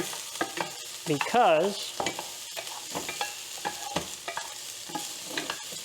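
Shallots frying in a pan for egg fried rice, a steady soft sizzle with scraping stir strokes, overlaid by a brief voice-like or whistling tone and scattered clicks.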